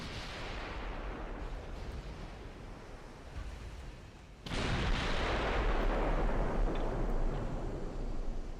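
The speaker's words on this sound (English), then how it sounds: "Those freaking guns are tearing us apart." Battleship guns in a naval video game fire as deep booming blasts over a constant rumble. A sudden, louder blast hits midway, and no one speaks.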